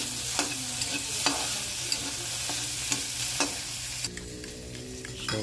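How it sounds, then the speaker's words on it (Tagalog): Food sautés in a pan with a steady sizzle, broken by regular scraping strokes of stirring, close and continuous without speech. "So magigisa tayo."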